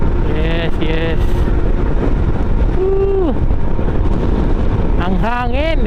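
Strong wind roars across an open ride on the road in Batangas, a constant loud rush. Vehicle engines and horn-like tonal swells rise and fall through it, and voices talk briefly.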